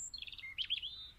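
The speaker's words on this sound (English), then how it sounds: "He took birdsong and made it a structural part of his pieces" Birdsong of quick high chirps and trills, a bright run of tweets rising and falling, heard alone and fairly faint over a soft low background hum.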